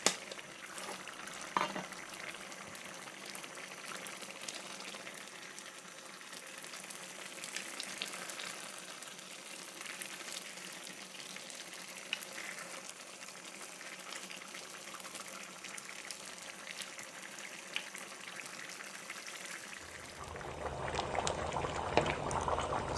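Egusi soup cooking in a covered pot for a lumpy Nigerian party recipe, giving a steady low sizzle and bubbling hiss that runs on for a long stretch and turns louder and brighter toward the end.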